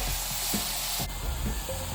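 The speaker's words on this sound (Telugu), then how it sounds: "యాపిల్లో మాయిశ్చర్ పోయేదాకా ఫ్రై చేసుకోవాలండి" Apple pieces frying in hot ghee in a pot, a steady crackling sizzle with occasional stirring scrapes, close and moderately loud, no talk.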